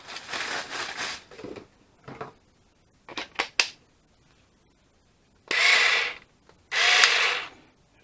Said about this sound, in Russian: Сабельная пила.